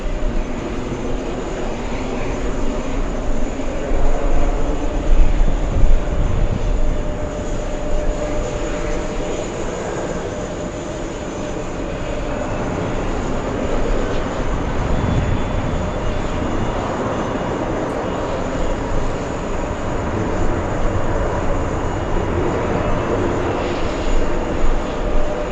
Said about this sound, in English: an arrival Caribbean landing on the closest runway